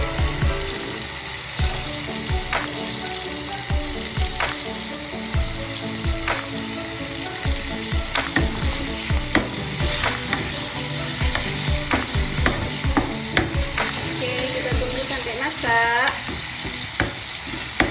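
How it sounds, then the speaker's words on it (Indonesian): Fried chicken being stirred in a pan of butter sauce: a steady, loud sizzle with scraping and clacking stirring strokes throughout, and no voices. "Oke, kita tambah saus ini sekarang, saus menteganya, sausnya."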